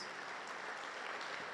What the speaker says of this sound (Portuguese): Pode aplaudir mais uma vez o Senhor?